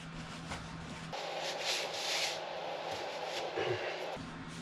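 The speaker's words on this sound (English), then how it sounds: "I'm going to wipe off any excess glue" Cloth rubbing over a glued wooden crosscut sled, wiping off excess glue: a steady, soft scrubbing close by with a few stronger strokes, no talk.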